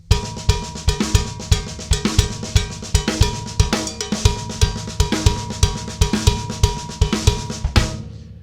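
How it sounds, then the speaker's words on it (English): A cowbell struck in a driving 16th-note drum-kit groove, its bright metallic clanks riding over a kick and snare pattern, loud and close, steady for eight seconds and ending with a short decay. "Cowbell."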